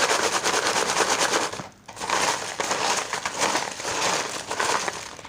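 Tarot cards shuffled in the hands, giving a dense, continuous papery riffling and crackling with a brief pause partway through, close and fairly loud with no talking.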